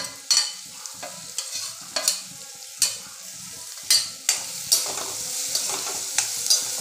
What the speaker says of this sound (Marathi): आता बटाटेसुद्धा तेलामध्ये व्यवस्थित परतून घेतले